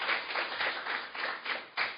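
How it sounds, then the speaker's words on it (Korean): Brief clapping from a political party gathering audience, a few bursts of hand claps close by, slightly uneven in rhythm. "박수 부탁드리겠습니다"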